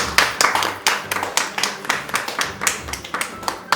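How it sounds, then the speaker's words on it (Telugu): A small crowd claps steadily at a prize ceremony for art contest winners. The claps are close and loud, form an even rhythmic beat and fill the whole stretch. "అందరూ క్లాప్స్ కొట్టండి."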